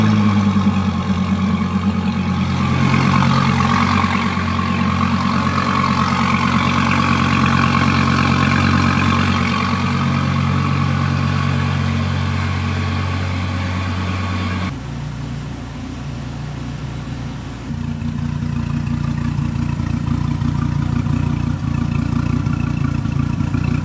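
A Dodge Viper's 8.4-litre V10 idles close by, a deep, steady, loud rumble that holds for the whole stretch, dipping briefly and shifting tone partway through before settling back into its even burble.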